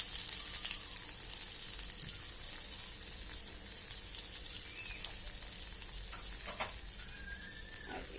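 Chopped garlic (two cloves) and half an onion frying in oil for saag dal, giving a steady, close crackling sizzle with a few soft stirring clinks and no talk.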